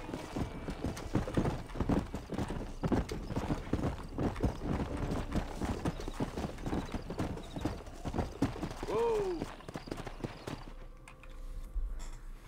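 Hoofbeats of a horse in Red Dead Redemption, a brisk regular clip-clop close up for most of the stretch, a short whinny near the end before the hooves fall quiet.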